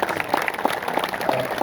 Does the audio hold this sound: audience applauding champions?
yes